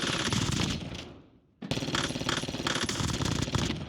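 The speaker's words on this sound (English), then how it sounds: "Here's the compact and firing range." Compact SMG firing in a video game firing range: loud, dense automatic bursts of rapid shots, one long burst, a brief pause, then another sustained stream of fire.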